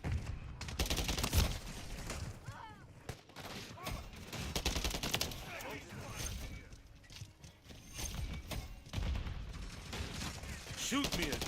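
Dense gunfire from the Shipment map in Call of Duty: Modern Warfare III multiplayer crackles constantly with bursts and explosions, fairly loud and continuous, with a voice speaking over it at times.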